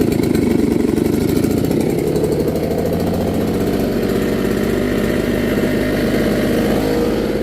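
A loud leaf blower drones steadily up close, its motor rumbling and whirring continuously without pause.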